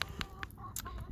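A rooster gives a run of short, sharp clucks in quick irregular bursts, fairly close and clear, with no talking over it.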